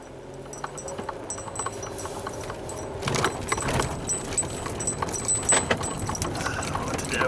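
Small dangling ornaments on a keychain jangle and clink inside a moving Ford Fusion, a steady scatter of light metallic ticks over low road and engine rumble, busier in the second half.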